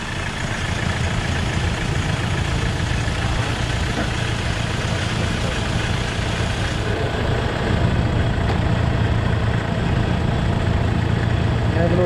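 An engine decarbonizing machine runs on a car engine at a service workshop, a steady loud mechanical drone with a low idling hum throughout, faint voices in the background and a slight shift in tone partway through.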